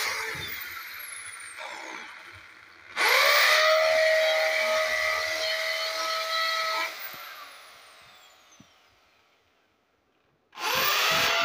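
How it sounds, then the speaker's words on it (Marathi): An electric drill bores holes for mounting a homemade four-socket extension board, whining loudly and steadily for several seconds, then spinning down to near silence before starting up again sharply; no one talks. "आता मी ड्रिलने अगोदर"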